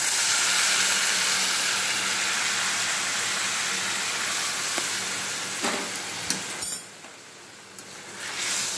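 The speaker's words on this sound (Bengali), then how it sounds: "এবার একটু গরম জল দিয়ে দেবো।" Hot water goes into a simmering hilsa fish curry cooked with elephant foot yam stalks, giving a loud, steady hiss and sizzle that slowly eases, with a few brief clatters near the end.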